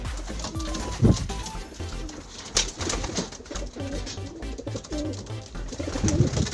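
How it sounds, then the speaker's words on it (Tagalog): Pigeons coo steadily and close by inside a loft, with soft overlapping throaty calls and some rustling throughout. "ito yung pinakamaganda kong kalapate ngayon"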